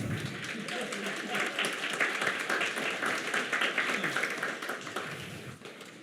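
Audience applause fills a lecture-style event, a dense steady wash of clapping hands that holds throughout and begins to taper at the very end, with some voices mixed in.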